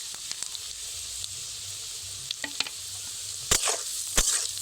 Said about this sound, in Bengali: এখন আমি তিল আর জিরা একসঙ্গে দিয়ে দেব